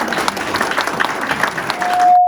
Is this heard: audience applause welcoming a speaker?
yes